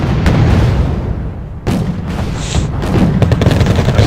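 T-55 tanks firing in a counterattack in a war game: repeated heavy booms and sharp gun reports over a loud, continuous battle rumble, with one distinct blast partway through.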